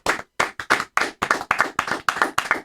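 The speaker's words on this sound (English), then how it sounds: "As soon as the clapping started" Close, loud hand clapping in a quick, slightly uneven rhythm, about a dozen sharp claps with no other sound.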